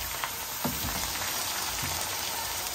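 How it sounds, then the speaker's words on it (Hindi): Chicken frying in a karahi pan gives a steady, continuous sizzle with a few soft stirring scrapes, close by and without talk. "उसको अच्छी तरह से फ्राई करेंगे"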